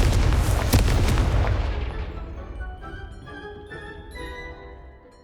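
A Confringo spell blast in Hogwarts Legacy erupts in loud, booming bursts at the start, then the fiery rumble decays over several seconds into quieter tonal game sounds.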